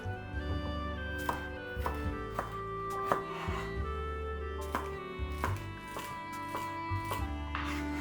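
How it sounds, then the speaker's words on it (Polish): A knife chops vegetables into small dice on a board in a series of sharp, close taps at an uneven pace, over soft background music. "rozpoczynamy od tego, aby warzywa pokroić w drobną kostkę"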